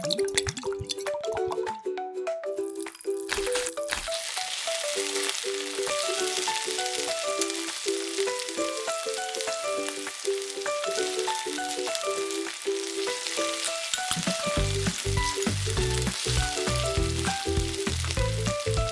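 Miniature red pepper and onion fry in cooking oil with a bright, continuous sizzle and crackle, close up, while soft tinkling music plays throughout and a stronger beat joins near the end.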